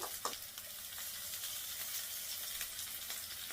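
Korean minari greens fritters fry in hot oil beside the stove, a loud, continuous sizzle dotted with small crackles and pops, with no talking.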